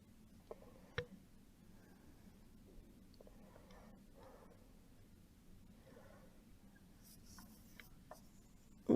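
Pencil sketching across paper while laying out a small AC unit shape in a one-point perspective bird's-eye view drawing, a faint, steady scratching rub with a few light taps, close and quiet.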